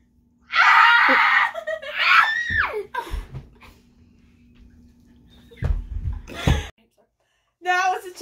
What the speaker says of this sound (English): Not without screaming.